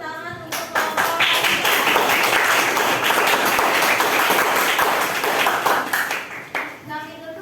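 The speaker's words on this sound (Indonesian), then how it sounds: "selamat tepuk tangan untuk kelompok" A classroom audience claps and applauds for a presenting group of students, a dense burst of many hands that rises quickly, holds for several seconds, then thins out, with voices speaking before and after.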